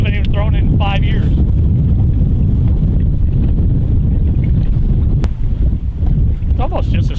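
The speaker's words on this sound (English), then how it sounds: "It's almost just a straight west wind, isn't it?" Strong wind buffets the microphone on Table Rock Lake, a loud constant roar with gusts throughout, while people talk briefly at the start and near the end.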